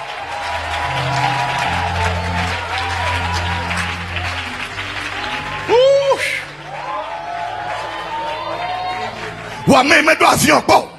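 A church congregation applauds and shouts, with loud bursts of cheering near the end, mixed with an amplified preacher's voice speaking in French over the noise.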